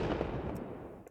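Nemesis rifle gunshot layer from the game Apex Legends, a single sharp crack with a short decaying tail, followed by a faint tick near the end.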